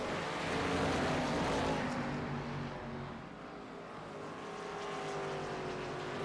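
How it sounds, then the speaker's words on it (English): Race car engine roaring in the iRacing simulator at Watkins Glen International during a Grand National Series race, a loud steady engine drone running continuously with slight rises and dips in pitch as the car runs down a straightaway. "And you can hear Reynolds clutching in that car"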